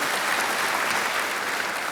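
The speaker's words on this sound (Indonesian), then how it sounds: "Tepuk tangan bagi Tuhan Yesus." A church congregation claps during a worship service, a dense, even wash of applause that stays steady for the whole short stretch.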